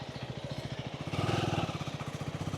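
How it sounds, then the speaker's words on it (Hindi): Motorcycle engine chugging in a steady fast rhythm as the bike rides off-road through mud on a bad mountain road toward Manang, Nepal, swelling louder briefly midway, with no talk over it. "अब अपनी बाइक चलेगी ऑफ रोड मोड पे।"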